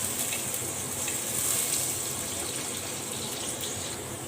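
Chopped green onion tops fry in a pan, a steady, fairly quiet sizzle that holds even and close for the whole stretch, with no talk over it.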